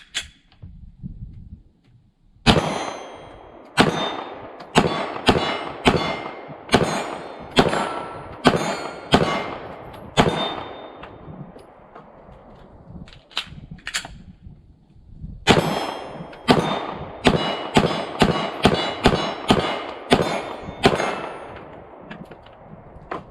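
Sig P320 X5 Legion 9mm pistol fired at an outdoor range from about 15 yards: two long strings of sharp, loud shots with ringing metallic clangs, steady paced rhythm, separated by a short pause.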